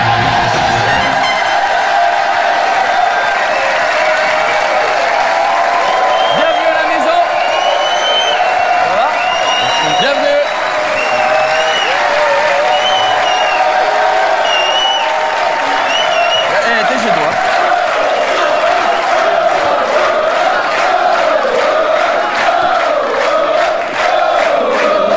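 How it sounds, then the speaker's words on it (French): A TV studio audience on the French talk show La Méthode Cauet claps, cheers and whoops for guest Arthur, a dense, sustained roar that runs throughout with voices and tonal sound layered over it. "je demande d'applaudir l'invité"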